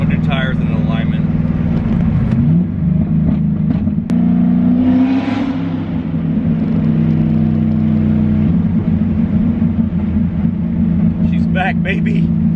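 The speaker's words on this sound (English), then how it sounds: "This thing's so loud it just breaks everybody's neck." A loud, modified Cadillac CTS-V engine rumbles and revs up close, a deep steady roar with rising and falling pitch throughout, while people talk over it.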